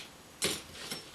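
A ratchet screwdriver gives a couple of quick, close clicking bursts, one sharper stroke followed by a softer one, with little else around it.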